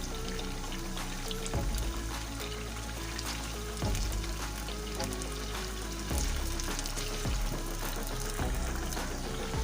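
Chicken koftas fry in hot oil with a continuous, fairly loud sizzle and crackle, and a few low thumps break in now and then, with no talk.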